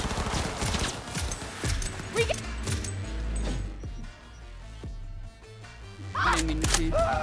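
Rapid bursts of gunfire ring out during a firefight in the video game Cyberpunk, with sharp repeated shots layered over a booming musical score and low rumbling impacts.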